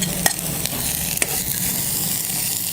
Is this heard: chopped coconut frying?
yes